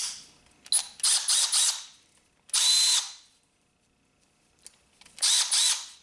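A Milwaukee 3/8 inch cordless electric ratchet runs in several short whirring motor bursts of about a second each. The bursts are loud and close, with silent gaps between them and no talking.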